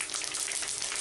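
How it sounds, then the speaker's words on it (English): Spaghetti sticks crisping in a pan of hot oil give off a close, steady, dense sizzle that stays even throughout the moment and is heard without any talking over it. "Why are we frying up these spaghetti noodles?"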